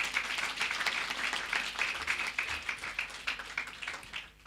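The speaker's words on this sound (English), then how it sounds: "I'll request that we give ourselves a loud hand of applause" Conference audience applauding together in a hall, a dense, steady wash of many hands clapping at moderate distance, continuing throughout and thinning slightly at the end.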